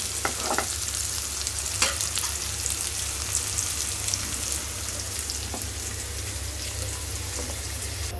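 Pointed gourd frying with onion and green chilli in oil: a continuous close sizzle with occasional spatula scrapes and stirring knocks, steady throughout, with a low hum underneath.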